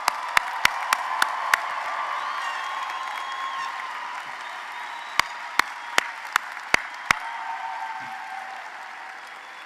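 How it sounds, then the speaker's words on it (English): A commencement audience applauds nursing degree recipients with steady, sustained clapping that fills the hall, a few sharp individual claps standing out near the start and again later, with no speech over it. "Let's give them a big round of applause"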